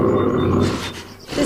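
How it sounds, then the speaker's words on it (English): A deep, rumbling sabertooth cat growl in the Roblox game Ecos La Brea rolls on steadily for over a second, loud and close, with a rough grunting texture. "And here, I find the source of that growling, a saber."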